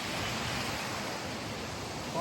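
River water pushes through a narrow gap in a hidden forest stream, a steady, full rushing wash that holds constant and fairly close throughout with no pauses.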